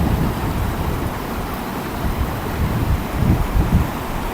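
Heavy rain pouring over surging flood water, a loud dense roar and rush of water with gusty swells building toward the end.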